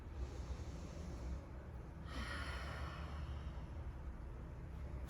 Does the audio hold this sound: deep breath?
yes